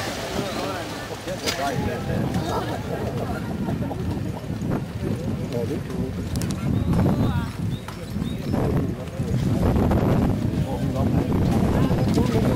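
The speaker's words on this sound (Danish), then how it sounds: "And now on his way to obstacle number 7, the first driver of the 4-in-hand pony class, Rüdiger Schulz from Germany, driving Tino," A four-in-hand team of ponies pulling a carriage at a driving competition, with clip-clop hoofbeats and wind noise outdoors while a commentator talks over it.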